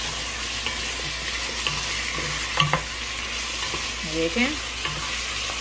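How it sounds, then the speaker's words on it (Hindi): Beef frying with masala in a pot for Eid pulao, a continuous sizzle with stirring scrapes and a couple of louder clanks of a spoon on metal, no talking. "अब मसाले के साथ इसकी भुनाई करेंगे"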